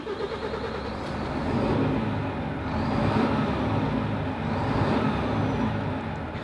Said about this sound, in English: let's just start it up and I'll give you a quick sound of the engine